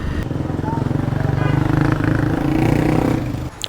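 A motorcycle ride through city streets in Dhaka, the engine running as a loud, steady, rhythmic drone throughout, dropping off abruptly near the end, with a voice over it.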